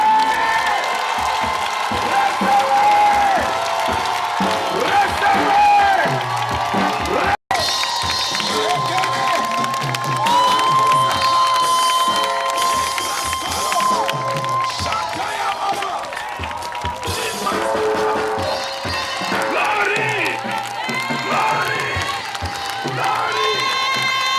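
A crowd at a religious crusade gathering in Ebolowa cheers and shouts in acclaim, a loud sustained roar of many voices with some clapping and high excited cries throughout.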